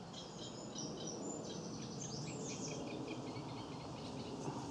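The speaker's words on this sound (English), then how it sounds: "It's a reed warbler that we can hear" A reed warbler sings in a reedbed along a nature trail, its busy scratchy chattering phrases rising and falling over a steady backdrop of insect buzz and other distant birdsong, moderately faint throughout.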